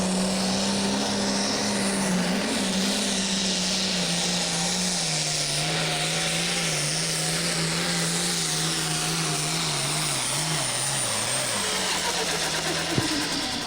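Limited 8,500 lb pulling tractor at a tractor pull in Mendon, Illinois, its engine roaring steadily at high RPM with a droning, wavering pitch that drops near the end, loud and continuous, no talk.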